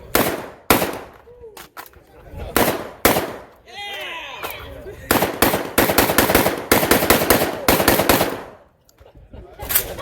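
Rifle fire on an outdoor shooting range during a live-fire event with Kalashnikov-style rifles: loud, sharp shots in rapid strings and bursts, with shouted voices between volleys.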